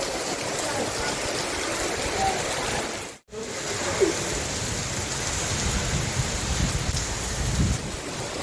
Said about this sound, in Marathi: आता जसं आता निघालो होतं आणि बघा आता वादळ झाला आहे.